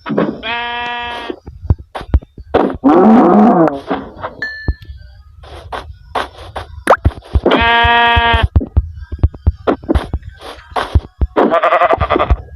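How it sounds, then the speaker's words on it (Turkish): Sheep bleat loudly and repeatedly in several wavering bursts, mixed with thumps and clatter from nearby animals. "var her yer koyun kaynıyor şu anda"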